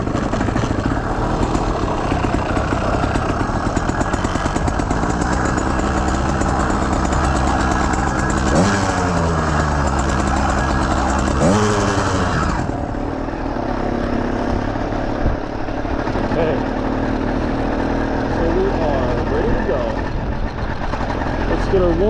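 A 110cc motorized bicycle engine warming up after its first start in days, a loud steady buzzing idle with a couple of brief revs partway through, continuous and close.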